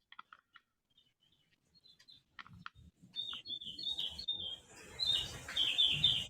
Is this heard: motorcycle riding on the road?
no